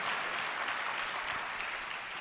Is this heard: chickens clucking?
no